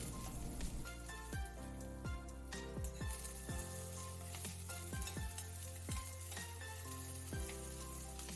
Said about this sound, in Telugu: కట్ చేసిన పచ్చిమిర్చి ముక్కలను ఇప్పుడు వేయాలి.